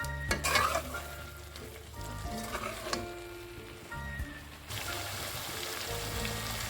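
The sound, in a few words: chicken curry masala being stirred and frying in pan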